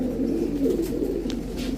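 Low, steady cooing from a cream-eyed young adult female pigeon, close and continuous, with a soft throaty rhythm and no voices.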